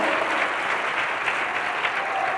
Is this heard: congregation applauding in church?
yes